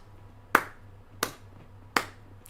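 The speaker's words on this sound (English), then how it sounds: "So everyone slow clap for Disney." Three sharp, isolated claps spaced slowly and evenly about two thirds of a second apart, with a faint fourth just starting, close and fairly loud over a low steady hum, a deliberate slow clap given as mock praise.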